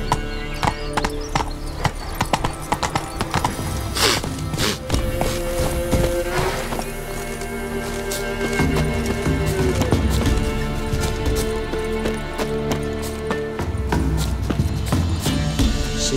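Horse hooves clip-clop steadily as Roach is ridden in The Witcher 3, a continuous trotting rhythm up close with game music and ambience beneath and no talk.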